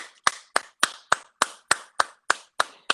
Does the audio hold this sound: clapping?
yes